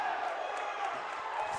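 Crowd at a girls' high school basketball game reacting to a foul call on a shot, a short burst of murmuring and raised voices in a gym, fairly faint and steady.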